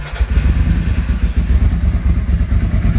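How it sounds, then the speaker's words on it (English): An old 1986 Ducati Passo 750 motorcycle engine is running close by, giving a loud, lumpy, pulsing rumble with some mechanical clatter that keeps going steadily for three seconds. "We're gonna start the bike and hopefully it'll run first because it's a little fussy"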